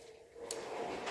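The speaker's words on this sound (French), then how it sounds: "vous entendez une porte qui s'ouvre très discrètement derrière" A door eases open quietly somewhere behind, heard as a faint, soft sliding creak under low room hiss.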